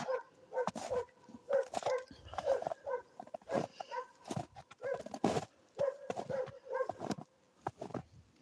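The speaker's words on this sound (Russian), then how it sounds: "Собака лает, кавкает." A dog barking repeatedly outdoors in snowy rural Komi, a steady string of sharp yaps and woofs in uneven bursts, moderately distant and fairly faint, with no talk over it.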